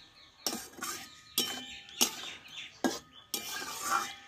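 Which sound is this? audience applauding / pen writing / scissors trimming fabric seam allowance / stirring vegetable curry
stirring vegetable curry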